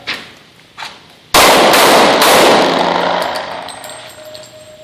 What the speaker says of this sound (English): you're going to see a shot or two from the hip, half hip, which is partially extended out, and then a full extension one-handed